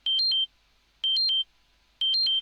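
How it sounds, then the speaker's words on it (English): A Dexcom G7 or FreeStyle Libre 3 glucose app's high blood sugar alarm on a phone repeats a short pattern of high two-note beeps about once per second, bright and close, with silence between the bursts. "high blood glucose alarm."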